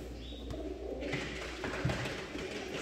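Soft, low cooing of Polish high-flyer pigeons murmurs through a steady background hum, with faint rustling and a brief high chirp near the start.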